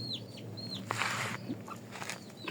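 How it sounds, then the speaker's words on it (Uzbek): Soft clucking of a hen mixed with high, thin peeping of her two-week-old chicks nearby, repeated calls over a quiet background. "Mana bunisi tovuq, mana bunisi tovuqchasi."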